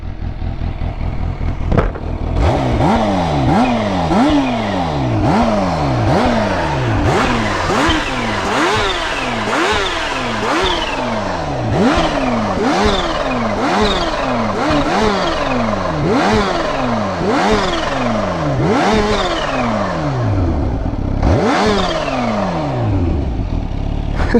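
A Kawasaki Ninja H2 motorcycle engine starts and revs repeatedly, each throttle blip rising sharply and falling back, loud and close throughout.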